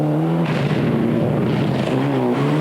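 Renault Maxi Megane rally car on a stage of the 1997 Circuit des Ardennes in Belgium: a loud, close engine note, revving and climbing steadily through gears over a couple of seconds with no voices.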